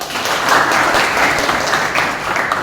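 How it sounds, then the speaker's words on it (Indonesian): Students in a classroom applaud together, a dense, steady wash of clapping that holds evenly for a few seconds without talk. "Tepuk tangan dong"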